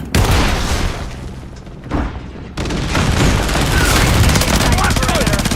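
A flash grenade goes off in a video game amid heavy gunfire, with loud booms and rapid shots filling the whole stretch as in-game voice callouts cut in over the noise.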